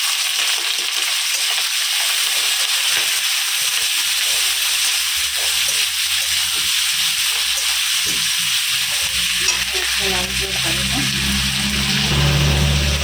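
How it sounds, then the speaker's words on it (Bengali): Onions frying in a pan alongside garlic, meat and potatoes give a loud, steady close-up sizzle and hiss that continues without a break, with some stirring and a deeper rumbling undertone building near the end. "পেঁয়াজটা লাল লাল একটু ভাজা হয়ে যাবে"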